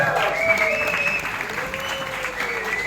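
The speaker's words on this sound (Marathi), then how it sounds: "त्याच्यानंतर रशीद नायकोडी साहेब यांच्यासाठी एकदा जोरदार टाळ्या" Steady applause from a crowd at a training and contest distribution gathering, continuous and fairly loud with a sustained melodic tone running beneath it.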